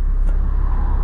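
A BMW engine running on an MHD tuning map gives a loud, steady low rumble close by, holding an even drone for about a second with no clear rev peaks.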